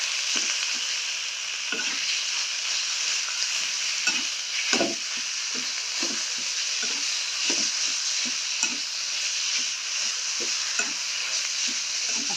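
Mashed potato mixture fries in hot oil in a pan for aloo puri, giving a steady bright sizzle broken by repeated soft stirring scrapes and clacks throughout, with no talking.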